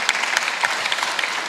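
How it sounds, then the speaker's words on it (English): Audience applause at a parish check-presentation ceremony, a steady patter of many hands clapping at moderate loudness, continuous across the whole moment with no talking over it. "Please give a round of applause"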